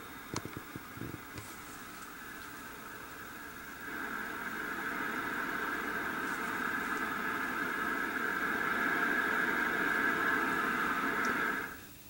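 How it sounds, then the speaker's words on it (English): Red noise from a synthesizer noise generator module plays as a steady, dull rushing roar. It starts after a few brief clicks, grows noticeably louder partway through, then holds before dropping away at the end. "Here is the red noise"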